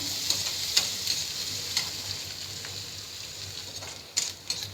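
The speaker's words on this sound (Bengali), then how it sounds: "তো পেঁয়াজগুলো দেখো আমি লাল লাল করে ভাজে নিচ্ছি।" Chopped onions frying in hot oil until brown give off a steady, close sizzle, with occasional soft scrapes and clicks from stirring throughout.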